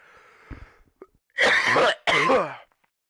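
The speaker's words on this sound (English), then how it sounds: "The only reason that cough was so bad" A single soft cough, then two loud, harsh coughing bursts close to the microphone, separated by a short pause, over Batman: Arkham Knight gameplay.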